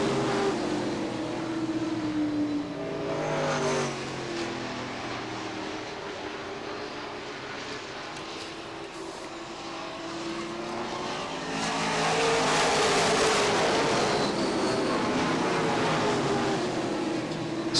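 Stock cars race around Beech Ridge Motor Speedway, their engines roaring steadily at a distance with swelling and fading passes, the sound rising again toward the end.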